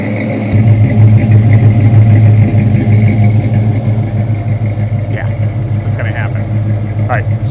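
A Chevelle's engine starts up and runs steadily while driving, a loud low rumble holding through the clip with faint squeaks and talk over it.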